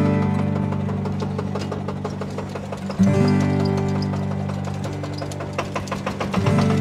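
A tractor engine idles steadily while powering a small sugarcane mill, a low continuous mechanical drone with rhythmic knocking and clattering, and a couple of heavier thumps as the mill works.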